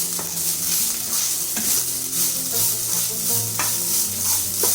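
Lemon rice with tempering being mixed in a hot pan, a loud close sizzle with repeated scraping stir strokes and light clatter from the utensil against the pan.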